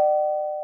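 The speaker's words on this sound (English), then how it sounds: "Oh, doorbell" A toy-doll play scene has a doorbell ring as a single clear electronic tone, steady and loud for under a second, then cut off, heard alone.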